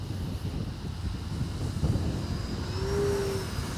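An E-flite Turbo Timber Evolution 1.5m RC airplane flies overhead, its electric motor giving a thin whine that rises into a clearer tone near the end, heard outdoors over breezy background noise.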